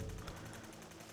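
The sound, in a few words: rifle firing then glitching in video game Fallout 4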